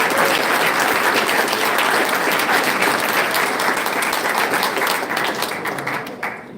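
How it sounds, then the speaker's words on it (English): A large audience applauds loudly at a summer camp ceremony, dense steady clapping that tapers off near the end. "A big round of applause"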